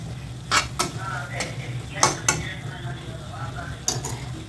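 A lid comes off a pan of pasta simmering on the stove: a close metallic clatter and scrape over a steady low sizzle, with a few sharp clinks of cookware spread through the clip.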